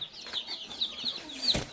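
Village chickens and young chicks give soft, quick clucks and high peeping calls at close range, with a few brief rustles and knocks underneath.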